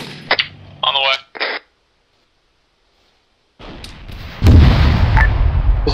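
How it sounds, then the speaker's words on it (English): A tank cannon fires at an enemy tank in the ARMA 3 military game, with brief radio-style voice bursts first, then a pause and a heavy booming blast with a long rumbling tail. "Gunner, put a round through that tank."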